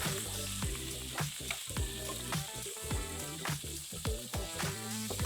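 Beef roulades (zrazy) dropped into a frying pan, hot fat sizzling and crackling steadily with repeated sharp spits and clattering as pieces are moved, close up and without talk.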